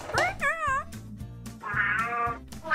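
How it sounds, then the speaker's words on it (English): Cats in a Playmobil family story meowing in a couple of short, wavering cries, close and clear over a low background hum. "Lena, we have to grab the cats and put them out."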